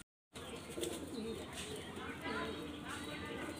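Green-line pigeons kept at a home loft coo softly and repeatedly over a constant background murmur.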